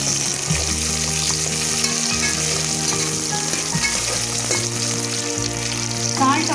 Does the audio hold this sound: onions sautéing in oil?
yes